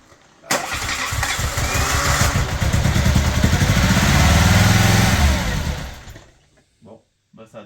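A 1986 Peugeot 205 GTI 1.6L petrol engine with a fuel leak at the pressure regulator cranks briefly, catches and revs roughly for about five seconds before shutting off, followed by short bursts of talking.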